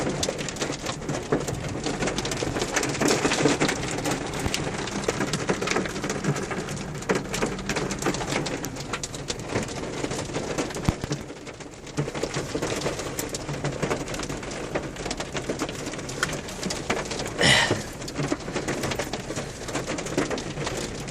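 Steady rain and hail falling outdoors, a continuous dense patter of drops hitting surfaces for about twenty seconds, with birds cooing faintly in the background and no speech.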